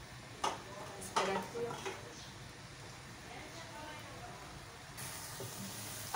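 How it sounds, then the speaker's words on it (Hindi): Onions fry in a pan for a Delhi-style chicken korma, giving a soft, steady sizzle with a few sharp clinks of a spoon against the pan while someone talks over it. "अब मैं इसे प्याज को फ्राई कर रही हूँ, लाल कर रही हूँ, ब्राउन टाइप का ये हो जाएगा।"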